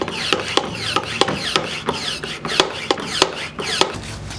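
Hand pump on a brake pressure bleeder being pumped up to 10 psi on a 2006-2012 Porsche 987 Cayman, a close rhythmic series of sharp clicking strokes with a brief rasping hiss between each, about a dozen in steady succession.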